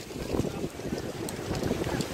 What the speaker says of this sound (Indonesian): Nih, ombak besar sekali.